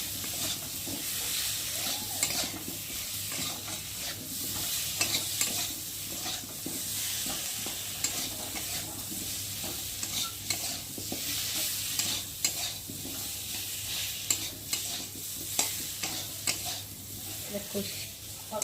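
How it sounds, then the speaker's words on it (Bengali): Turmeric, chili and cumin powder masala with tomato sautéing in a pan for a fish roe dish, a constant low sizzle under frequent scraping strokes of a spoon, steady and close. "বাটির মধ্যে হলুদ গুঁড়ো লঙ্কার গুঁড়ো আর জিরে গুঁড়ো দিয়ে একটু ভালো করে মেজে নেব মানে কষিয়ে ধরে"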